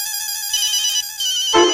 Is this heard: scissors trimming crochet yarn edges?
no